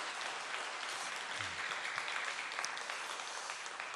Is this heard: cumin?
no